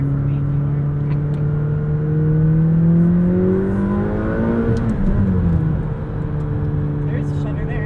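A 2020 McLaren 570S Spider V8 revs hard under acceleration, its engine note climbing, then dropping sharply at a gear shift and pulling up again, loud and close inside the cabin.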